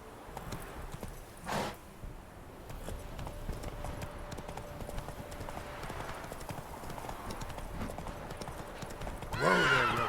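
The video game horse Roach walks with steady, close clip-clopping hooves throughout, with a brief snort early on and a whinny near the end.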